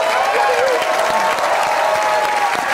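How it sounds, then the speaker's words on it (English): A live audience at a comedy talk show with John Cleese and Eric Idle claps and cheers, a loud, continuous burst of applause filling the room. "What are they clapping for?"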